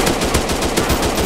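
Rapid automatic gunfire from an offline FPS shooting game on Android, a dense, steady stream of loud shots with no pauses.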